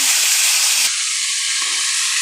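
Loud, steady hissing sizzle of chicken frying in hot oil, fairly close, with a brief low bump early on and no talking.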